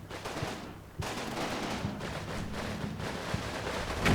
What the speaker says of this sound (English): tank will shoot there for a while with a machine gun